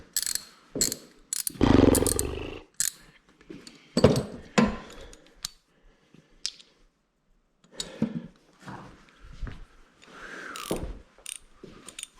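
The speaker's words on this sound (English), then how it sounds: "Then grab a little bit bigger wrench here." A wrench works on a Ford Taurus engine that is misfiring across several cylinders, producing bursts of ratcheting clicks and metallic clanks in uneven spurts with short pauses between them.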